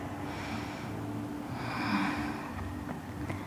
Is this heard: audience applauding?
no